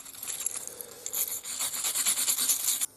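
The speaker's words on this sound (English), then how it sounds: "give it a quick once over with the stainless brush" A stainless wire brush scrubs aluminium in quick back-and-forth strokes, a close, bright rasping scratch in uneven bursts with no talk.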